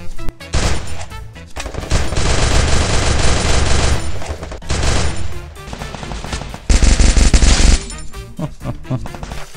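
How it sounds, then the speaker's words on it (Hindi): Loud, dense gunfire in the mobile shooter game Free Fire MAX, with rapid automatic bursts and heavy booming shots continuing almost without pause. "और भी गन्स की आवाज आ रही है।"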